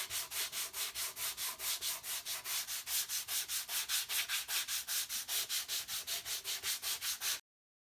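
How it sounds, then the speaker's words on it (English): Sandpaper wrapped on a timber block is rubbed back and forth over a wooden ST-style guitar body in about two dozen even, rhythmic strokes. The close, gentle rasping stops abruptly at the end. "Just sanding gently."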